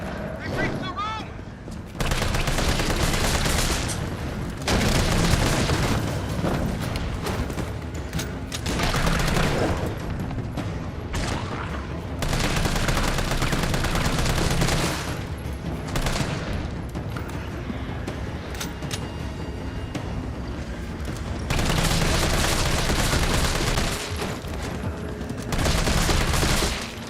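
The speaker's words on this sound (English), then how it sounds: "Man, this assault rifle's sick, bro." Assault rifle fire in a video game comes in several long, loud bursts of rapid shots, separated by short pauses, with a voice heard at times.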